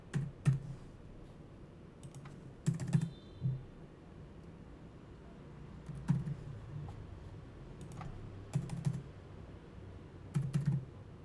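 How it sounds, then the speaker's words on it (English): Keys clatter on a computer keyboard as an answer is typed into a PowerPoint game, with small bursts of clicks separated by pauses, close and fairly quiet with no voices. "And now we're typing our new correct answer, which is 100."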